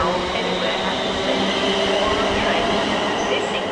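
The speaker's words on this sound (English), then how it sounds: "Manchester to London is whizzing through." A Manchester to London train whizzes through Milton Keynes Central station with a loud, continuous rushing rumble of wheels on rails, close and unbroken for the whole stretch.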